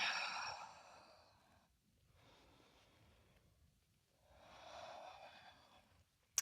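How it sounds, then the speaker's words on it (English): Slow, audible Ujjayi breathing during a vinyasa yoga flow: three soft, airy breaths with pauses between them, quiet and close, with no talking. "Continue your Ujjayi breathing."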